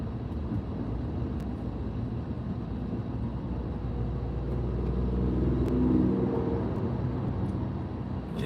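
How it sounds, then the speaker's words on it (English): Steady low rumble of slow, congested street traffic in Montreal, a continuous broadband drone with a slight swell near the end as a heavier vehicle passes close by, no voices. "I'm out here on these Montreal streets, stuck in this traffic, man."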